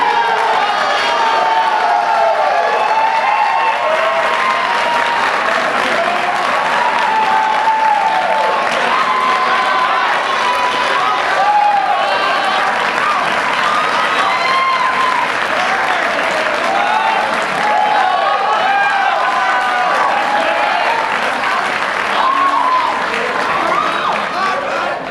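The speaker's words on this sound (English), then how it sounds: "please give a round of applause to Corey Clothlier." Loud, sustained applause with cheering and whoops from an audience at a college awards ceremony, steady throughout without a break.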